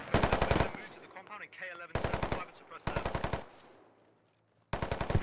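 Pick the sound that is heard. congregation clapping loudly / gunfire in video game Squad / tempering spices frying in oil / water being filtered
gunfire in video game Squad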